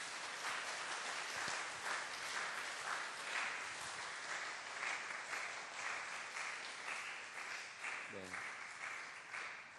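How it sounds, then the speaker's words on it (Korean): A church congregation gives sustained, fairly quiet applause during a worship service, an even stretch of clapping with a brief voice sounding near the end. "박수로 이렇게 맞이해 주시겠어요?"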